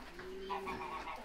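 Farm birds cooing inside a barn, a soft nearby pigeon-like coo with a low sustained tone and rising throaty notes over quiet room noise.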